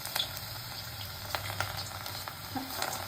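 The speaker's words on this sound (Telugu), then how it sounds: "ఆయిల్ వేడెక్కిన తర్వాత మనం పిండిని ప్లేయర్లతోనే పెద్ద పెద్ద ముద్దలు కాకుండా చిన్న" Onion pakodi batter dropped in small pieces into hot oil in a kadai over a medium flame, a steady, dense sizzle and crackle with a few brief pops, close and fairly loud, no voices.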